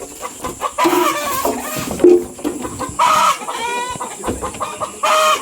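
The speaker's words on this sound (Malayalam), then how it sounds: "കോഴികൾ ഓടി ഓടി മാറുന്നുണ്ട് കേട്ടോ" Chickens cluck and squawk in agitated bursts as a rooster is caught in a forest settlement, loud close cackles and a rising crow-like cry, with scuffling between calls.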